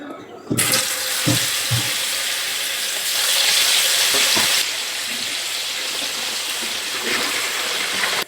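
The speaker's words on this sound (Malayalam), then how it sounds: "ഇനി നമുക്കിത് പുരട്ടി വെച്ചിട്ട് മീൻ ഇതൊന്ന് വറുത്തെടുക്കണം." Spiced dried stingray pieces, rubbed with turmeric and masala, frying in hot oil for a pickle; a steady, dense sizzle that swells midway, broken by a few soft knocks near the start.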